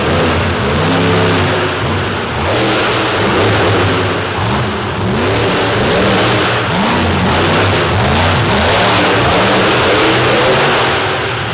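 A loud, powerful monster truck engine revs hard and continuously at a monster truck event in Corbin, Kentucky, rising and falling in pitch with throaty roars throughout.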